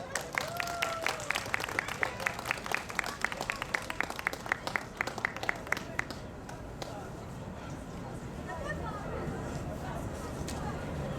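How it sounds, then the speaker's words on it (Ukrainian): Rhythmic applause for two young sister singers at a concert, with sharp regular claps over the first six seconds that then soften into a steady, diffuse wash of crowd clapping. "Зустрічайте бурхливими оплесками."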